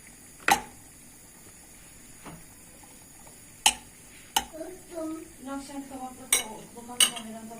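Peppers being turned with a utensil in a pan alongside frying sucuk, a handful of sharp metallic clinks and taps spaced irregularly, with soft sizzling scrapes between them; quiet and close.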